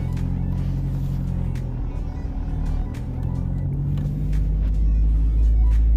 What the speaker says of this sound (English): And just going for a little test drive.